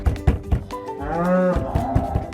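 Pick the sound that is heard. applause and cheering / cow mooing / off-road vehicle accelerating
cow mooing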